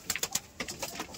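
Pigeons on a pigeon farm give short repeated calls, a quick run of bright bursts followed by softer, lower coos, close by.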